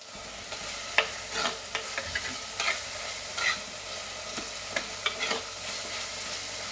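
Chopped onion, ginger and garlic fry in a pan for a Kottayam-style fish curry. A soft, steady sizzle runs throughout, with repeated scraping stir strokes in an irregular rhythm and no voices.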